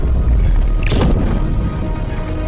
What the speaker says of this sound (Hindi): सैनिकों ने तुरंत तोप के गोले ड्रैगन की तरफ दागने शुरू किए।